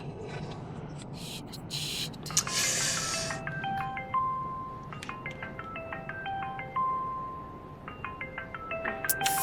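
A melodic phone ringtone plays repeating stepped tones for several seconds, fairly close, over a low background rumble and a few clicks.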